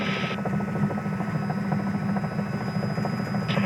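A Robinson R66 turbine helicopter in flight gives a steady, loud rotor throb with a continuous engine whine, heard close from inside the cabin and unbroken throughout.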